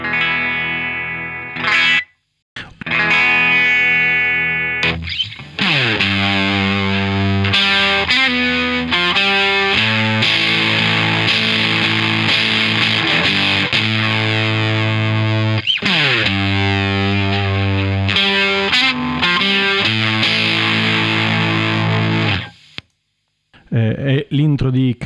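Electric guitar plays the intro of a song through a Budstone Jax Telet clone gain pedal, a distorted, sustained riff with a few brief gaps, loud and close with no talk over it.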